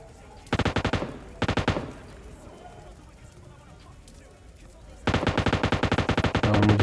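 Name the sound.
M249 machine gun fire in PUBG Lite video game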